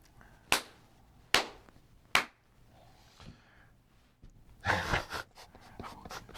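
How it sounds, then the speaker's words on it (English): Three sharp, separate hand claps ring out close to the microphone at an even pace, followed by quiet breathing and a burst of rustling and handling noise. "So clap 3 times."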